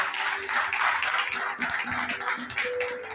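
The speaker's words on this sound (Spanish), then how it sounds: "Den un fuerte aplauso." A church congregation applauds to welcome a visiting sister at a midweek service: a steady patter of clapping from many hands, with faint sustained tones beneath.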